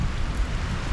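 Rain falling during flooding weather outside a house: a dense, steady hiss of rainfall over a low rumble, continuous and fairly loud with no voices.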